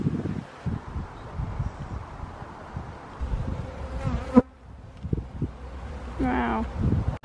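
A drone honeybee buzzes close by in a steady, wavering drone, with rustling and a brief faint voice.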